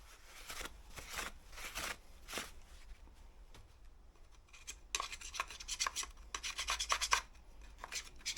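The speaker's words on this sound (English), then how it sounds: "Scrape all that off so it won't fall in when I open it up." Old valve cover gasket material is scraped off an LS engine in quiet, intermittent rasping strokes. Sparse at first, the scraping grows quicker and denser toward the end.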